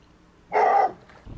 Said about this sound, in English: it looks like there might be a dog around